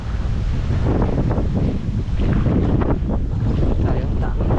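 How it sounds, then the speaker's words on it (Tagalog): Rough sea waves breaking on a beach with strong wind buffeting the microphone, a loud continuous roar of surf and gusts filling the scene. "Maalon."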